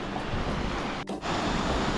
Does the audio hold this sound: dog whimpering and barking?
no